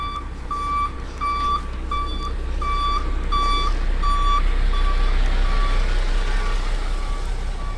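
Truck reversing beeps on a New York City street, a steady train of loud, evenly spaced electronic tones over a constant low rumble of traffic and engine noise, fading out toward the end.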